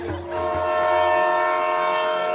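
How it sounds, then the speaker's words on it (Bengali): A train rumbling past while its horn sounds one long steady loud tone held through the whole short stretch, close and alone with no voices. "ট্রেনের শব্দ, হুইসেল বাজছে।"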